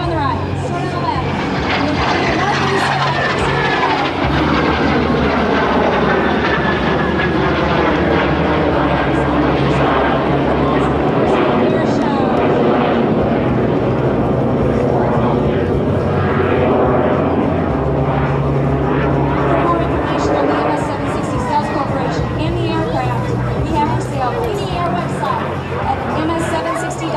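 Two Morane-Saulnier MS760 jets making an aerobatic pass at the 2010 Boston-Portsmouth Airshow: a loud, sustained engine roar with sweeping pitch shifts as they approach and pass, and faint crowd chatter underneath.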